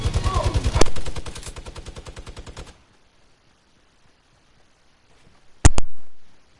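Gunfire in a shooter video game: a rapid automatic burst of close, loud shots, then near silence, then two sharp final shots.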